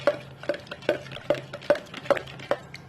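A spoon stirs rose water into a homemade face toner mixture, tapping a glass container in an even rhythm of about seven light, ringing clinks, close and clear.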